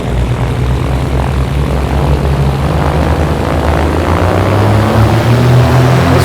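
A propeller airplane taxiing toward runway 26 right in Las Vegas, its engine holding a loud, steady droning hum close by for several seconds with no voices over it.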